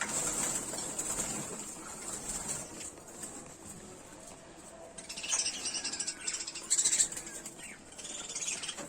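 Pet budgerigars chirp and twitter in a busy, continuous stream of high calls, near and fairly loud, with brief rattling bursts and no talk.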